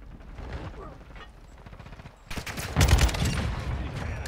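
Rocket launcher kills in Call of Duty, rapid mechanical clatter of gunfire followed by a sudden louder blast and rolling explosive noise that fills the latter half.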